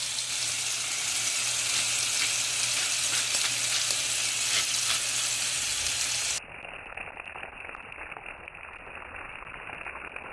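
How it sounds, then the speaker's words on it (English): Two steaks sear in a hot pan with a steady, close, crackling sizzle that drops to a thinner, quieter hiss partway through; nobody speaks. "I don't want to overcrowd the pan because I am searing."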